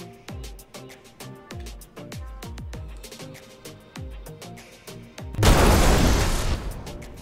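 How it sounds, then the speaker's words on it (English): Two size 5 torpedoes striking a Terrapin ship in Star Citizen: a rapid series of booming impacts with deep thuds, then a loud, sustained roaring blast that fades out. "Two size 5 torpedoes."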